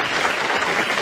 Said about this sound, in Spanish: Le damos un aplauso y le dejamos que se vaya